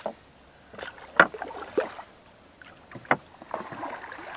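Paddles dip and splash as a small boat is rowed on a reservoir at Ranjandih Dam in Purulia, with irregular soft strokes close by over quiet water and no talk.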